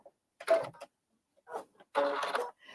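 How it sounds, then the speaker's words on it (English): Sewing machine running in a few short, stop-start bursts as fabric is sewn and back-stitched, close by and moderately loud, with quiet gaps between runs. "So we're going to sew just a little bit, back stitch, cut."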